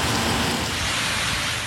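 Heavy monsoon rain pours down in Pakistan, a loud, dense, steady hiss of falling water with no voices.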